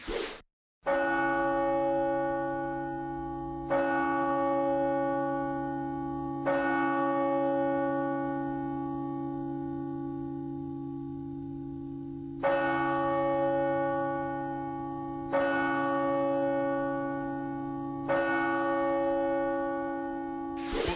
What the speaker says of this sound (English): for 1 minute they just sound this bell, bong, bong, bong